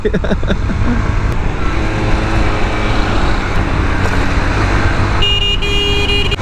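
Road traffic heard from a moving Honda Hornet 2.0 motorcycle on a city street: a loud continuous roar of engines and wind, with brief horn toots near the end.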